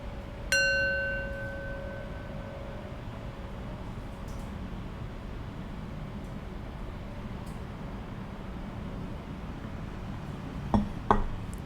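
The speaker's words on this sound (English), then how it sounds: "I'll close meditation with 3 rings of the bell." A meditation bell is struck once to close a meditation session, ringing out clear and bright and decaying slowly over several seconds in a quiet room, followed later by a faint clink.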